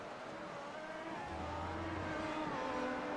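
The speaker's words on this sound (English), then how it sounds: "a little bit too much wheel spin off the corner" Red Bull McLaren race car in iRacing at the Nürburgring GP circuit, engine revving hard as the wheels spin coming off a corner, a steady loud whine that rises in pitch with tire noise.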